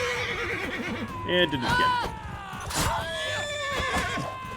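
Warhorse in Mount and Blade Bannerlord cavalry combat whinnies and squeals shrilly as it is struck, with hoofbeats and scuffling underneath and someone talking over the top.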